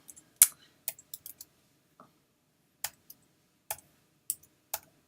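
A computer mouse clicks on the fraction box of an online math equation editor: a scattered series of about a dozen short, sharp, dry clicks at an uneven pace, fairly close and isolated against near silence.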